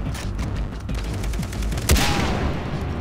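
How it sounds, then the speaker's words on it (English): A sniper rifle shot fired in the Far Cry 3 video game, one sharp loud crack near the two-second mark over busy in-game gunfire and combat noise. "check out this sweet new sniper I got"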